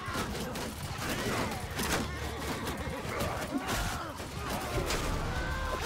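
A crossbow volley firing in a Mount & Blade II: Bannerlord battle, with dense overlapping shots and clattering impacts amid battle noise, grunts and groans, continuous and moderately loud.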